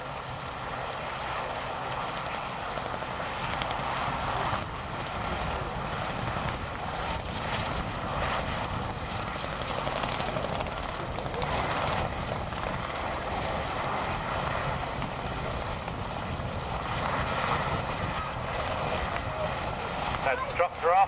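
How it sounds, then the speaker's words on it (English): Continuous heavy rotor and engine roar of military helicopters at an air day commando assault display, loud and steady throughout with no pauses. "helicopters are free to leave the danger area, leave the landing site."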